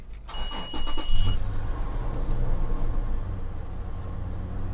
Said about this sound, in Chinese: 那我们来启动一下引擎吧